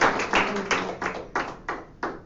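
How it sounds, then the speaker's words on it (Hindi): An audience at a Christian sermon claps in a short run of about six quick, sharp claps, loud and close, with no talk over them. "अरे वाह, ताली बजाओ ना परमेश्वर को."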